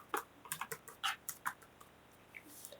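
Keys clatter on a computer keyboard as an Aadhaar number is typed into a form, a quick run of close, crisp taps followed by a few slower, fainter presses.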